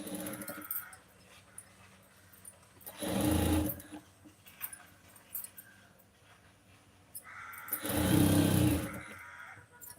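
A sewing machine stitching a lined blouse runs in two loud, close bursts of rapid mechanical whirring, separated by quieter handling noise and faint background sounds.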